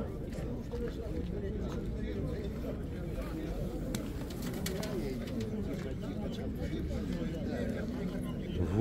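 Pigeons cooing at an outdoor bird market, a low continuous burble of many birds under steady crowd noise, with someone talking over it.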